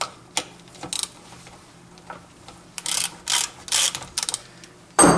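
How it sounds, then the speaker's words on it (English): Ratchet socket wrench with a 12 mm socket loosening bolts on a Toyota Corolla clutch slave cylinder, giving several quick bursts of close, sharp clicking separated by short pauses, with a louder burst at the end. "I have here this 12 millimeter socket and wrench, and then I open"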